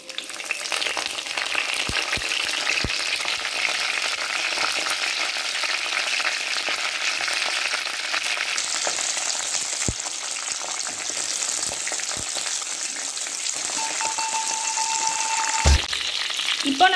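Curry leaves and green chillies crackle and sizzle steadily in hot oil for country chicken curry, a continuous close frying hiss with a few sharp pops and a brief stir near the end, no voices.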